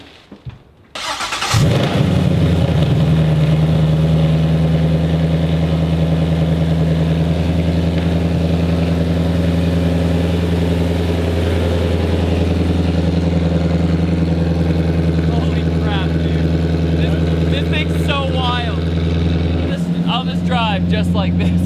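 A Nissan 240SX fitted with a Mustang engine cranks and fires up, then settles into a loud, steady idle close by, with a brief change in the engine note near the end and voices talking over it.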